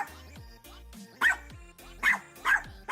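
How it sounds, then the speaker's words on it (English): A dog barks several times in a steady rhythm, three or four loud, close barks spaced about half a second to a second apart, with low background tones between them and no talking. "This annoying dog again?"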